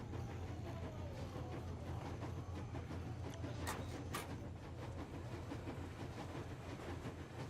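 A train rumbles steadily in the video game Metro Exodus, a continuous low rolling roar with rhythmic rail clatter and a couple of sharp metallic clanks, loud and close throughout.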